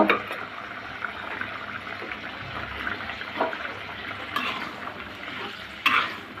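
A pot of curry with bean seeds bubbling at a rolling boil, a steady watery simmering hiss with occasional louder bubbling bursts, close by and continuous.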